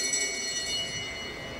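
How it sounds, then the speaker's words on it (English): A lap bell rings at a track cycling race in Brisbane, a steady metallic ring held through the whole moment over a low hum of arena noise. "Bell sounds again."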